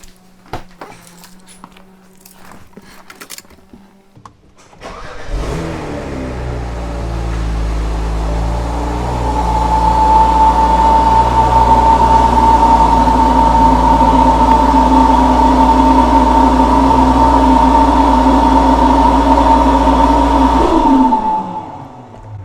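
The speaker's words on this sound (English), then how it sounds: "I just want to turn on the car, make sure that everything idles fine and whatnot" A BMW F10 engine cranks and catches after a few quiet clicks, then settles into a steady idle with a rising whine and even low hum, close and fairly loud, before shutting off near the end.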